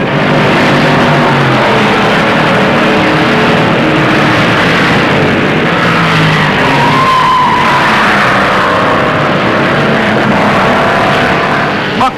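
Stock cars roaring around the track at the 1958 Southern 500, a loud, continuous engine drone with overlapping cars and a passing whine midway, dense and unbroken throughout.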